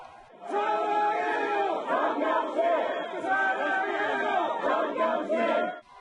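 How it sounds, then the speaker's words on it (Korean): Supporters gathered outside a detention center raise loud, sustained cheers and shouting as a released professor appears, a thick crowd roar that swells and holds for several seconds before dropping off. "지지자들의 환호성은 더 커집니다"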